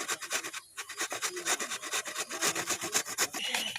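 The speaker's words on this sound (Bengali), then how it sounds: "তো আমি একটু ঘষলাম, এখন আমার বোন ঘষতেছে" Mango for aam makha is grated by hand, making a close, rhythmic rasping scrape that repeats in quick, even strokes with one brief pause.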